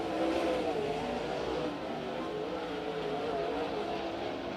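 Race cars roaring through a heat race on the Stockton dirt quarter-mile track, a dense continuous engine drone that swells and fades slightly as the field passes, loud and steady.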